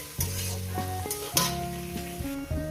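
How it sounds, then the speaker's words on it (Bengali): Sliced onions with a spoonful of salt fry toward brown in a pan, giving a loud continuous sizzle with several sharp stirring scrapes and clinks close by. "এটাকে আমি সুন্দর করে ভেজে নেবো পেঁয়াজটাকে লাল লাল করে"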